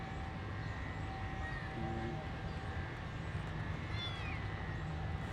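A cat meows a couple of times, fairly faint, over a steady low rumbling background.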